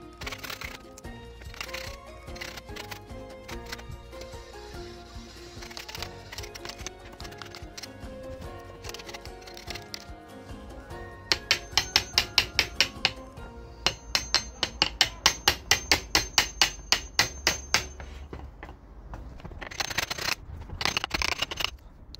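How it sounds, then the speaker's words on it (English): Wood is chiselled out for the centre of a kalimba, with a steady run of sharp mallet taps and scraping, speeding into rapid rhythmic strikes before a final few knocks. "I had chiselled out the centre of the kalimba."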